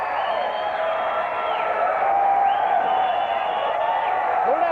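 A packed gym crowd at a high school basketball game between Gate City and Rye Cove roars and whoops continuously and loudly, with a dense cheering wash under a shouting voice.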